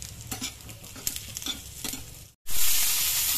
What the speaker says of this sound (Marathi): मिरच्या आणि त्यासोबतच मी अद्रक घातले, ते देखील आपल्याला भाजून घ्यायचे.